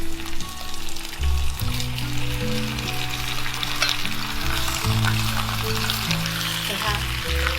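Eggplant hits a hot wok with minced garlic, ginger, scallion whites and green and red peppers, loud steady sizzling and crackling oil with scraping stirs throughout, up close.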